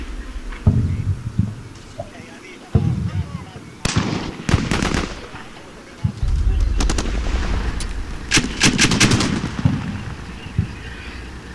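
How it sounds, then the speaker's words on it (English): Bursts of heavy gunfire and thudding explosions from a Mark 19 automatic grenade launcher on a Stryker vehicle in the Combat Mission: Shock Force war game, rapid thumping volleys mixed with distant rumbles and impacts. "That thud noise that you hear is the Mark 19 on one of the command strikers. Mark 19 is an automatic grenade launcher."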